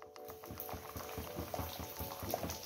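A pot of curry made with sprouted green gram and colocasia stem bubbles as it comes to a boil, soft rhythmic blooping and gurgling at low volume, close by and with no talking.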